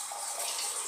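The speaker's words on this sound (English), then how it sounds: "Here I am adding some water" Water is poured into a cooking pot while ugali is being made, giving a steady, even splashing wash that stays close and continuous, with no talk.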